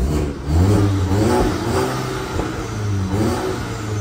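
Modified naturally aspirated car engine revving in short bursts, rising and falling several times at close range, loud and alone without talk.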